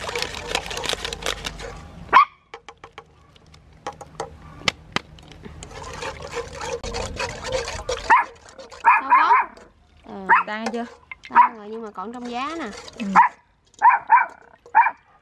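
A dog barks in a rural home kitchen in Ben Tre, Vietnam, a series of short sharp barks in quick bursts toward the end, with people talking nearby and clattering sounds earlier.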